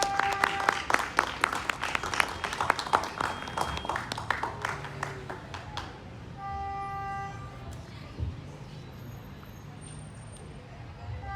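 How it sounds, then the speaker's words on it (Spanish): Audience applause at a book presentation during the Lima book fair, a few seconds of lively clapping that fades away, leaving quiet room tone and a faint voice. "se merece un fuerte aplauso al señor"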